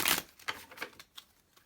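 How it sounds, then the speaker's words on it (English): Tarot cards being shuffled by hand, a soft papery flurry at the start followed by several lighter riffling taps, quiet and close with no talking. "Let me shuffle the tarot a little bit and see if I pick up anything."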